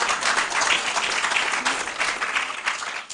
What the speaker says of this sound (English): Let's clap for both teams.